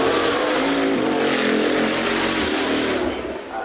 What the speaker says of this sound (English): Chased down by the Rimac Nevera, which is staggering.